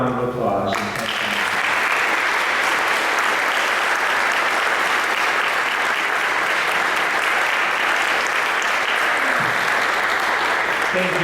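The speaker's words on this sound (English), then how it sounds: "let's give them a warm round of applause" A congregation breaks into loud, warm applause for its congregational president, the clapping starting abruptly after a brief moment and continuing as a full, unbroken roar of hands for about ten seconds.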